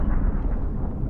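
A grenade blast in PUBG, a deep rumbling boom that fills the short moment with low, heavy energy.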